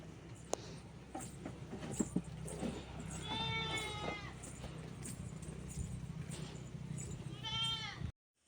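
Young male goat bleating on a farm, one clear drawn-out bleat near the middle and another toward the end, over a steady low rumble of farm background noise.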